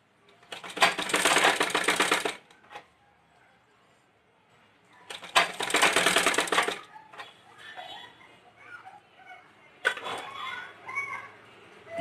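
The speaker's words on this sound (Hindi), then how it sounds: "इस तरह से धीरे धीरे सिलाई के द्वारा अस्तिन को लगाया जाता है।" A sewing machine stitches the sleeve seam of a simple kurti in two loud bursts of roughly a second and a half each, with quieter handling and fabric rustling between and after the runs.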